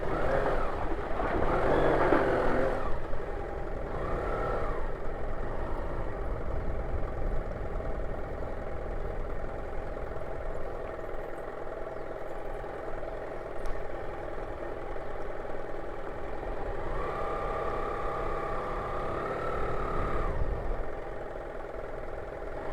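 A motorcycle engine putters at low revs while the bike crosses a stretch of water, a rough, steady rumble mixed with wind buffeting the microphone and splashy noise swelling at the start and end.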